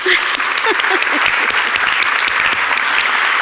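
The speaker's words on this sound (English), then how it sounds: "Give them a round of applause." An audience at a high school scholarship awards evening applauds the donors, giving loud, sustained clapping with a few scattered vocal sounds mixed in.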